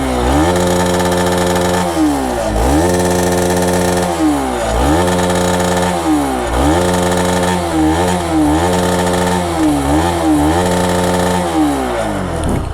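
A Bajaj Dominar 400 motorcycle engine runs loud and close, its steady idle rising and falling through repeated revs with no speech.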